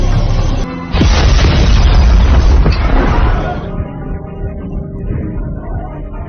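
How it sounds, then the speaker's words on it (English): Planted bombs detonating in a G20 action movie, a loud deep boom followed by a rumbling blast that swells, then tails off into lingering debris and chaos. "The bombs that have been planted are then detonated, creating chaos."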